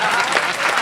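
A short, loud burst of dense clapping from an audience at a comedy kirtan, with the applause filling the whole moment.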